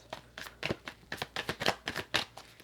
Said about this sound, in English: Two more shuffles and I'm going to grab the top 5 cards.